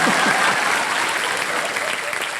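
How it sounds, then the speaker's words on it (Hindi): Studio audience applauding on the set of a Hindi game show, a dense burst of clapping at full strength that holds steady and tapers only slightly over a couple of seconds. "तालियां मेरे लिए"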